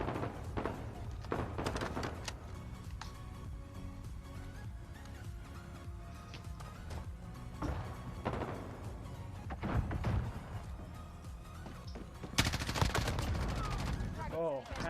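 Bursts of rapid gunfire in a multiplayer shooter video game, sustained automatic volleys and single shots over background game noise and music, with a sharp loud flurry near the end.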